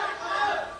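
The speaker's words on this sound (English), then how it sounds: "Listen to the crowd." Wrestling arena crowd in Ohio roaring for Brock Lesnar during his match with Batista, a dense, sustained wall of cheering and yelling from thousands of fans, loud and continuous with no gaps.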